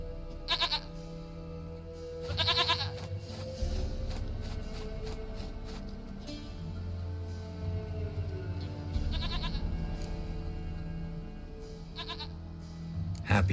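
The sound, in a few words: goat bleating in the video game The Witcher 3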